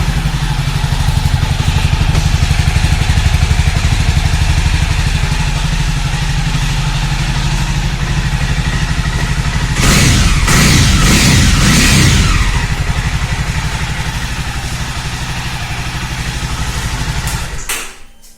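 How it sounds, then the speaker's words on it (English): Jawa 42 motorcycle idling with a steady, close, low thumping exhaust note, briefly rising in a short rev burst midway before settling back and cutting off near the end. "So we can listen the exhaust note."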